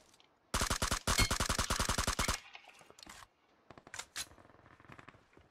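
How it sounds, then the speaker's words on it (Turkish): A firefight in PUBG Mobile sounds out as a loud, rapid burst of automatic gunshots lasting nearly two seconds, then sparser scattered shots, some distant and some closer. "Sağlam çatışma var."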